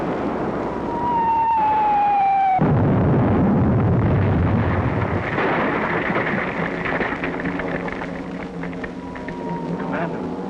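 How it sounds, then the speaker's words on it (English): Artillery shells bursting in a 1942 war drama, a loud, continuous rumbling barrage with heavy low booms and crackling debris that fills the whole scene, with a brief whistling tone near the start. "Shelling the barracks."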